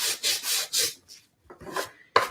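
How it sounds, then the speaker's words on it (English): Close, dry strokes of very fine sandpaper rubbing over an old wooden chalkboard frame: four quick rhythmic passes, a pause, then a few more uneven scrubs ending in a sharp scrape. "This is real fine sandpaper."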